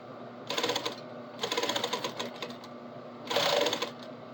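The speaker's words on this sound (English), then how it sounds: "double stitching" Sewing machine double stitching denim jeans, three close bursts of rapid mechanical needle clatter separated by short pauses.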